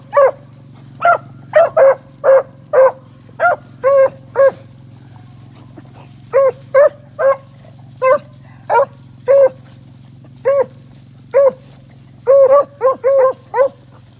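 Hunting hounds bay repeatedly while trailing a rabbit on good scent, loud clipped barks coming in quick bursts and clusters with short pauses, over a steady low hum in the background.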